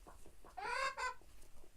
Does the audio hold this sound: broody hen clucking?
yes